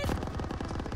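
Rapid machine gun fire in Call of Duty WWII, a fast continuous burst of close, punchy rounds that lasts about a second.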